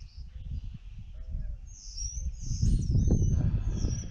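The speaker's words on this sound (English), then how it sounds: "Man, it's a nice morning out. Hear the birds." Birds chirp and sing high and fairly faint outdoors on a mild morning, their calls scattered above a low rumbling background that grows louder partway through.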